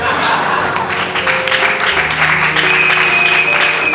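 A book-launch audience in a hall cheers and claps for Jesus, a dense, steady wash of applause and scattered voices lasting throughout, with talk mixed in beneath it.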